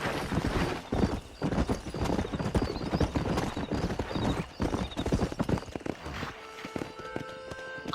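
Horses gallop hard in a race in the Red Dead Redemption video game, with loud, rapid clip-clop hoofbeats, close and driving throughout, and a brief whinny among them.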